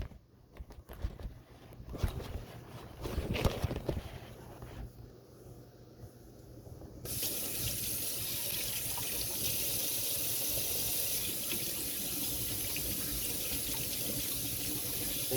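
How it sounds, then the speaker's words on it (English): Hands being washed in a kitchen sink under a running tap: after some light handling noises, a steady, loud hiss of flowing water fills the rest of the clip. "Gotta wash them hands. Gotta make sure we wash them hands."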